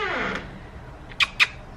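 Pet cat outdoors giving a drawn-out meow at the start, followed by two short, sharp sounds close together near the end against quiet background.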